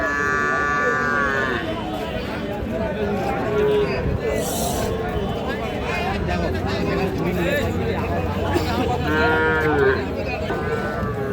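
Several cows, including Sahiwal heifers, moo loudly and repeatedly at close range, with people talking throughout amid a busy barn-like background.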